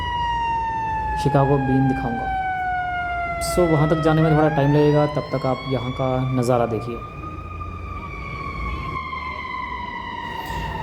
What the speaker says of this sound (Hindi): जो ये आवाज़ थी ये एम्बुलेंस की आवाज़ थी.